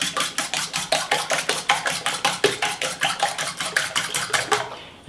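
Eggs whisked briskly in a bowl with black pepper and salt, a fork or whisk clicking against the side in a fast, even rhythm of loud taps that stops abruptly near the end.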